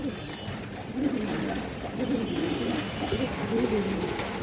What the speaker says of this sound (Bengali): এই যে পুরো লাটের একটা কবুতর